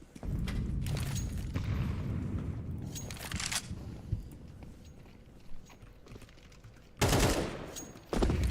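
Bursts of AK rifle fire at range in a Counter-Strike pro league match, several loud rattling volleys separated by quieter stretches of game ambience.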